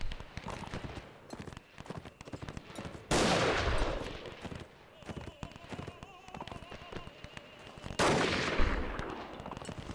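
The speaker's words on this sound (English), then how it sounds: "I shot the guy behind him, I think." Gunfire in the Between Empires video game, with two loud broadband blasts standing out over a dense bed of distant crackling shots and battlefield noise, without clear talk.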